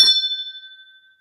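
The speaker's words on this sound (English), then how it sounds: "Every time I hit that bell" A single bell struck on a show set rings out with a bright metallic strike and a clear pure tone that decays smoothly over about a second, alone with no talk.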